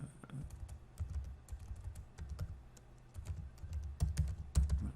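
Quick bursts of typing on a computer keyboard as a web search is entered, close and crisp, with uneven clusters of key clicks and short pauses throughout; no voices.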